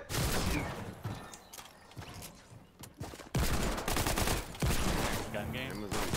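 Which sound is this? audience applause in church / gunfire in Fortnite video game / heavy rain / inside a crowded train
gunfire in Fortnite video game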